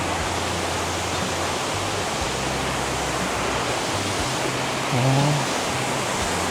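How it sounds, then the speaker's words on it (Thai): Steady, dense roar of a forest waterfall in Saraburi, Thailand, fills the scene at close range, constant and loud, with a brief low voice surfacing near the end. "ตรงนี้เป็น น้ำตก"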